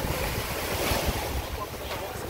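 Ocean surf at a beach in Ocho Rios, Jamaica, a steady broad wash of waves mixed with heavy wind buffeting the microphone, loud and continuous throughout.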